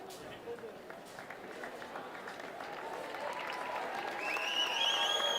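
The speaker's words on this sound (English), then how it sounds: "The crowd, I'm going to warn you in advance. They're going to be a little loud." A large crowd at an IFSC World Cup bouldering final in Salt Lake City roars with steady cheering and applause that rises in volume, with whistles and shouts coming through near the end.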